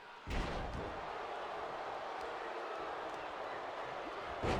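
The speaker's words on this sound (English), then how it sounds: "Randy now slamming Finn face first into the mat." Slam of a wrestler driven face first into the mat in a SmackDown wrestling video game, one sharp thud near the start with a dense crowd-like roar running underneath and a second impact at the end.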